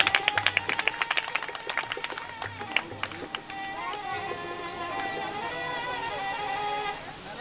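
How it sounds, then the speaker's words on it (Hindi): Audience clapping for Krishna during a Shrimad Bhagavat Katha gathering in a village, a burst of many hands with a dense rhythmic start that settles into steady sustained applause, heard alongside music. "कृष्णा के लिए ताली बजाइए।"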